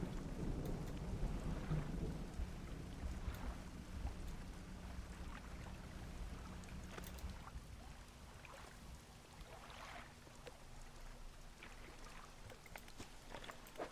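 Thunderstorm in the fishing game Dredge: steady heavy rain with rolling thunder and scattered sharp cracks, loud at first and easing slightly, a low hum entering partway through.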